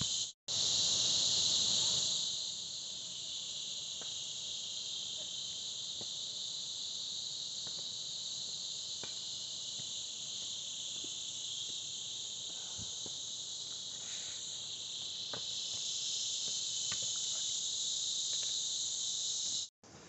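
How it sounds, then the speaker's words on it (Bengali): Crickets chirp in an unbroken shrill drone from the mountain forest on a trek near Banatoli, steady and fairly loud for the whole stretch, with faint scattered ticks and rustles below and no one speaking. "ওই জঙ্গলের মাঝখানে, ঝিঝি পোকার ডাক"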